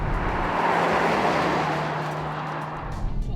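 A 2020 BMW X5 M Competition SUV's engine pulls hard under acceleration, a broad steady roar with a low droning hum that holds for a few seconds before easing slightly.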